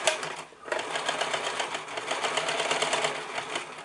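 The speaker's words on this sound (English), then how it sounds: "I'm going to top stitch on top of where my loops are, and I'm going to do a tight stitch because I want to make sure this elastic holds in place" Close, loud sewing machine running continuously as it top stitches tight lines over elastic button loops on a bridal gown, a fast rhythmic clatter after a brief pause near the start.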